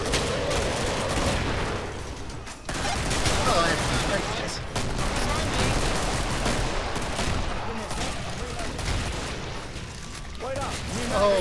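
Dense, loud gunfire fills a co-op session of the video game Killing Floor, with rapid bursts, shots and booms running almost without a break. Players' voices can be heard now and then under the shooting.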